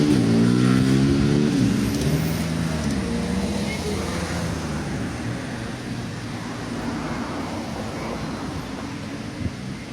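A car passing on a street, its engine loud and close at first then easing into a steady road rumble as it moves away.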